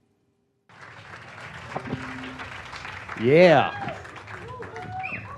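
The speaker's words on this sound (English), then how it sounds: "One more round of applause for everyone on stage and WeWork." Crowd applause and cheering at the WeWork Creator Awards live event, a steady wash of clapping that swells with a whoop in the middle, with voices and a brief spoken word over it.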